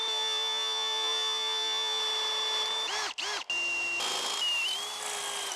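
Power drill boring a hole in a bung: a high whining tonal motor drone that shifts pitch as it loads, briefly cuts out twice in quick succession, then resumes steady and close.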